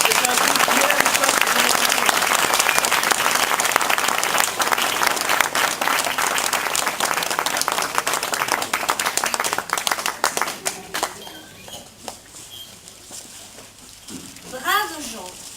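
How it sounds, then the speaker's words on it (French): An adult theatre audience at a village festival applauds loudly and continuously for about ten seconds, then the clapping fades as a performer begins speaking. "Je vous propose de les applaudir bien fort."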